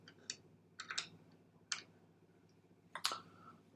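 Keys on a computer keyboard are tapped in a few sparse, faint clicks and short clusters, spaced irregularly over a low steady background hum.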